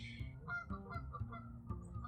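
Geese honk repeatedly nearby in quick overlapping calls, a faint flock chorus with no voices present.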